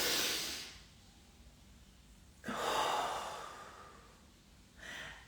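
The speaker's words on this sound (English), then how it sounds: "a deep breath" A deep breath during meditation: a long breathy exhale up close, a pause, then a slow drawn inhale and a shorter breath at the end, soft and unhurried in a quiet room.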